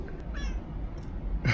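A cat meows a few times close by on a Hong Kong street: short, clear, tonal calls with gaps between them and faint background noise.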